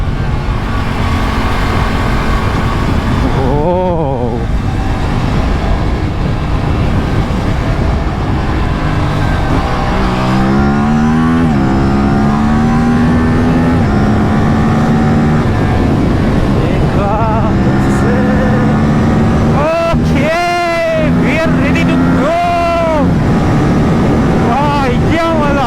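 An Aprilia RS457 motorcycle ridden hard on an open road, its engine revving up and dropping back through repeated gear changes under a constant roar of wind, loud and close throughout.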